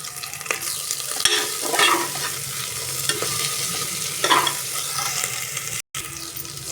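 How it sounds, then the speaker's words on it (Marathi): Ginger garlic paste is stirred in a hot pan over a high flame, giving a continuous sizzle with scraping strokes of the spoon, close and moderately loud, broken by a brief moment of silence. "मी घरी आलं लसूणची पेस्ट तयार केलेली आहे हलवून घ्यायची आहे"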